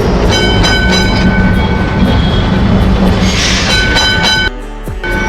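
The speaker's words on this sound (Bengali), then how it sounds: "কলকাতার ট্রামে বসে আছি" A Kolkata tram rolling along, a loud steady rumble with rhythmic rail clatter and high metallic squeal, heard from aboard the car, easing near the end.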